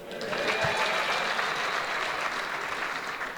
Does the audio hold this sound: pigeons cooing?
no